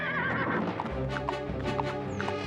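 A horse neighs and whinnies with clip-clop hoofbeats at a royal horse race in an animated series, the calls loud and repeated over a steady bed of sound.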